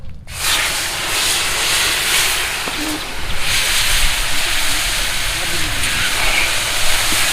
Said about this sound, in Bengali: চাটনির জন্য বসিয়ে দিচ্ছি গরম কড়া। আমের চাটনির জন্য তেল